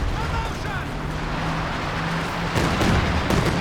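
Katyusha rocket artillery barrage in Company of Heroes 2, heard as a distant rumbling battlefield that swells into a louder cluster of impacts near the end, with speech over it.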